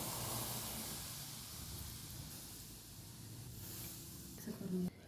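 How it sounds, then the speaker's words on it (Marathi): Hot oil poured into half a kilo of chakli flour makes a steady, soft sizzling hiss that fades slightly over a few seconds, faint and low, with a brief louder clatter at the end and a voice faintly in the background. "वाटीभर तेल कढवून घेतले आहे ते त्यात घालायचं"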